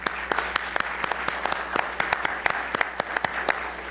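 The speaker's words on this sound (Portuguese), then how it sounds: "Pedir a ele uma salva de palmas." Applause from a conference audience welcoming a Petrobras materials speaker, with distinct sharp individual claps ringing out at a lively, uneven rhythm over a softer bed of clapping.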